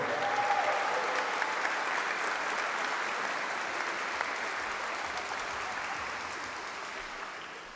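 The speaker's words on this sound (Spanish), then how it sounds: "Más fuerte el aplauso para el soprano" An audience applauds at a bank employees' games event after a soprano performs, a dense, sustained clapping that fades slightly toward the end, with no talk over it.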